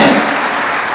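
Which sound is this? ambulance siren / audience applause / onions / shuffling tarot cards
audience applause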